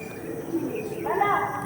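Andhra pigeons coo softly in short, low bubbling calls, close and faint, with a brighter chirping call rising near the end.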